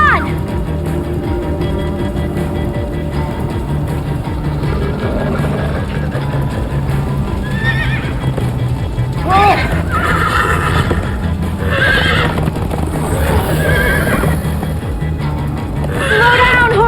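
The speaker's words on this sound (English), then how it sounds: "Slow down, horse!" Horses whinny and neigh repeatedly amid galloping clip-clop hooves in the Minecraft Story Mode game, with the neighs rising loud and close over a busy, steady background.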